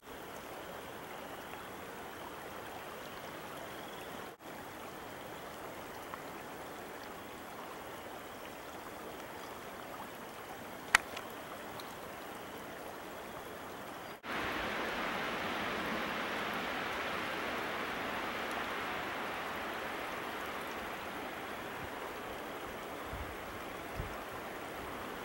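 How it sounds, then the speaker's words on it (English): Steady running creek water rushes with a broad, even wash, growing louder and fuller partway through as a bottle is filled in the stream, with no voices. "This is the last running creek I'll see until I'm home."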